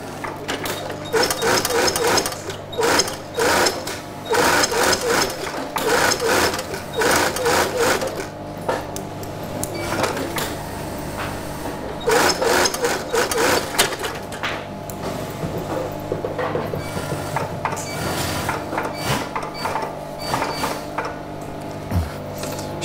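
An industrial sewing machine stitches the peak onto a flat cap in a workshop, running in rapid, close bursts separated by short pauses and small mechanical clicks.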